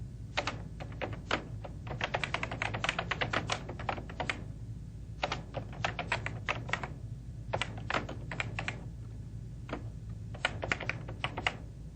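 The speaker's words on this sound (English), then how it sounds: "I simply hit backspace, make my correction" Someone types steadily on a computer keyboard, tapping keys such as backspace and End in quick bursts with short pauses, close and clear over a low steady hum.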